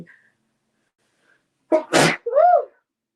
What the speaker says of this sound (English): I got sneeze.